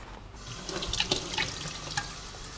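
Tap water runs into a bowl to cool something down, a steady close splashing and gurgling stream with scattered drips and no talking.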